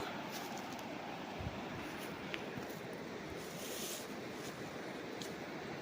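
River water runs steadily down a sloping stretch of farmland toward a river in Majayjay, Laguna, a continuous broadband rushing wash with no breaks, moderately loud and unaccompanied by voices.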